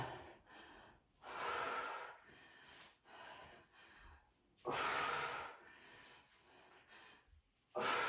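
Heavy breathing during dumbbell lunges: loud, close breaths in and out come in a few long bursts separated by quieter pauses.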